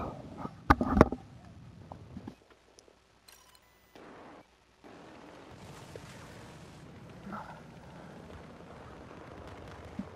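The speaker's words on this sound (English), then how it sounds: "Oh, that's a freaking rocket launcher." A rocket launcher blast in a shooter video game: a loud, sudden burst up close near the start, then a sharp drop into quieter game ambience with faint rumbles and scattered distant noises.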